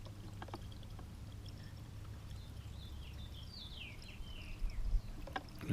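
Coolant pours into the radiator of a KTM 690 Enduro motorcycle as a faint, steady trickle and gurgle over background hiss, growing slightly louder near the end.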